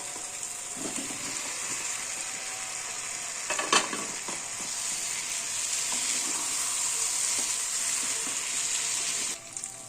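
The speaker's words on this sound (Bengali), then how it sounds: "মশলাটা কষা হয়ে গেছে এবার আলুগুলো আমি এতে দিয়ে দেবো" Potatoes go into a pan of fried spice masala for aloo dum, giving a continuous bright sizzle with a brief clatter as they land, then steady frying and stirring noise.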